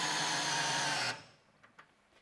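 DeWalt compact drill on a 5 Ah PowerStack battery whines loud and steady for about a second, then cuts off abruptly, leaving a few faint clicks in near silence.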